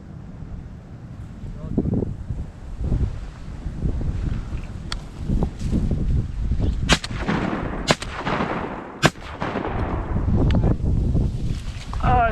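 Shotguns fire during an outdoor duck hunt: four sharp, distinct reports spaced a second or two apart over steady gusting wind noise, with voices murmuring in the background.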